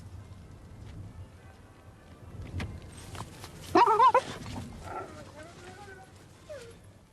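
A dog on a Sunday morning walk gives a few short barks and yips partway through, moderately close, with someone narrating over the outdoor background throughout.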